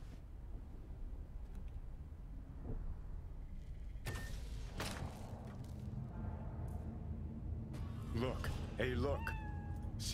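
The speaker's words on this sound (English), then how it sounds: "Hell yeah, I got a freaking cat, bro." A cat meowing in the video game Cyberpunk 2077, several short meows and caterwauls in the second half, fairly close, over faint background game ambience and a few thuds.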